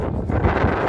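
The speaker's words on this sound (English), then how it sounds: "It's a little windy." Strong wind buffets the microphone in rough, low gusts in Voghji village, Armenia, a constant roaring rumble with no clear voices.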